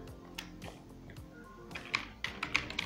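Someone types on a computer keyboard while coding PHP, with irregular close key clicks that quicken into a brisk burst toward the end, and no talk.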